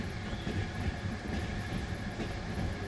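A Trans-Siberian Railway train rolls through marshland in Russia, a steady close rumble of carriage and track noise with faint rhythmic wheel clatter running throughout.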